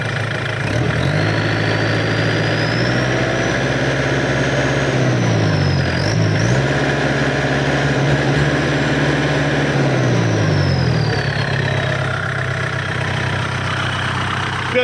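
Kubota L4708 tractor diesel engine with an added turbo kit, idling steadily and then revved up twice, the pitch rising and falling with a faint turbo whine above a loud, close, continuous rumble.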